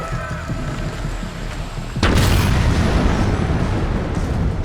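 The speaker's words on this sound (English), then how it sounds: "Enjoy the explosion." A loud explosion bursts out about two seconds in during the video game Dying Light The Beast, a sharp boom that gives way to a sustained crackling, rumbling roar of debris and fire for the rest of the moment.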